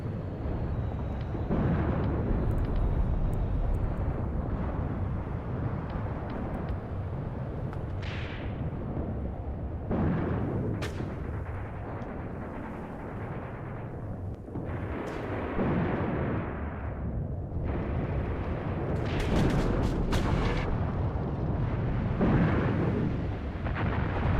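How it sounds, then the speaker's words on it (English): An artillery bombardment in Graviteam Tactics: Mius Front rolls on without pause, with heavy booms and deep rumbling overlapping in dense waves from near and far. "That bombardment also continues all up and down the line, as you can see."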